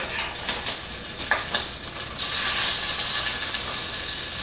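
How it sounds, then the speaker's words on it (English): Chicken thighs go skin side down into hot oil in a pan, giving a loud, steady sizzle that rises and holds, with a few light clinks and stirring noises just before it. "Nice little sizzle, what we want to hear."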